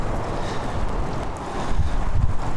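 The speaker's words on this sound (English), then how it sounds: "I don't know how well that's handling this wind." Strong, gusty wind hits a road microphone fitted with a windsock. A loud, continuous low rumble of buffeting swells in bursts with no pauses, and no one speaks.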